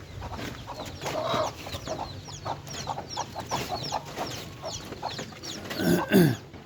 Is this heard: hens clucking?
yes